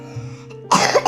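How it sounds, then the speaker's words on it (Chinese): A child coughs after a vaccination, a short throat-clearing build-up followed by a single sharp, close cough indoors at home. "你不要对着那样子咳嗽，"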